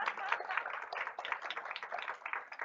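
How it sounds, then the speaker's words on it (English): An audience at a Board of Education meeting applauds the strategic plan team: a dense, steady patter of many hands clapping together, fairly soft and somewhat distant, sustained without a break and with no voice standing out above it. "Round of applause, please."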